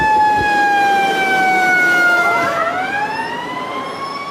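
Emergency vehicle siren wailing close and loud, a steady tone that sweeps down and then back up over a roaring engine and traffic in Nashville, no talking.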